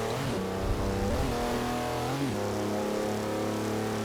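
The diesel engine of the E80 in Forza Horizon 4 accelerates hard, its loud drone rising in pitch through quick gear changes, steady and close with no voices over it.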